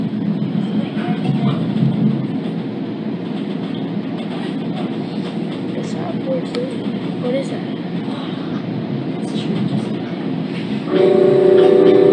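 A New Jersey Transit train running toward Secaucus Station gives a steady, loud rolling rumble throughout, with a public-address voice speaking over it and a brief tonal chime near the end.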